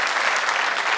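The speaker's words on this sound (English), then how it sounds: "please give a last big round of applause to Alex and Freddie" Brief burst of audience clapping at the end of a live cooking show demonstration, loud and continuous for about a second.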